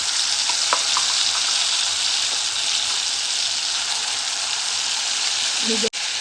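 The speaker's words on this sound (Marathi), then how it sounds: "गॅसचा फ्लेम स्लो करून परतून घेणार आहे" Ground spice paste with asafoetida and cumin sautés in oil over a low flame for an ivy gourd masala, giving a steady, close hiss of sizzling that fills the whole stretch before a brief drop near the end.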